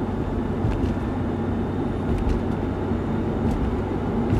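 A car climbs a hill at about 35 miles an hour under added throttle, heard from inside as a steady, loud, low engine and road rumble that holds constant throughout with no talking.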